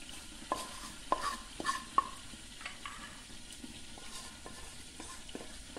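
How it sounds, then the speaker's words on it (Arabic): Vermicelli fries in oil and is stirred, utensil taps and scrapes over a steady sizzle, close up with no talking. "من بعد ما تقلات لنا الشعريه درنا لها غير قطيره ديال الزيت"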